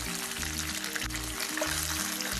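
Chicken wings bubbling and sizzling in hot deep-frying oil, a steady close crackle running alone without pause under a low background hum.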